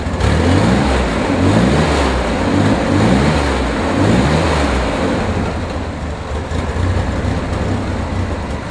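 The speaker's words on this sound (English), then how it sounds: "how about I start it for you so you can hear what it sounds like," A 1965 Chevrolet Corvair Corsa convertible with four carburetors revs steadily, its engine growling in repeated rising surges close by, with no talking.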